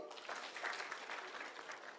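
Audience applause at a public security forum held at Migori TTC college, a crowd clapping steadily for about two seconds, moderately loud and fairly even with no voices over it.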